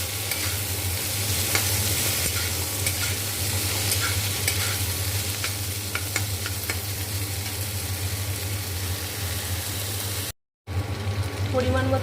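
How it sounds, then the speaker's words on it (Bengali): Long beans and potatoes frying with a fenugreek seed tempering, producing a loud, steady sizzle with scraping stirs throughout and a low hum in the background. "মেথি ফোড়ন দিয়ে বরবটি আলুটাকে ভালো করে ভেজে নিচ্ছি।"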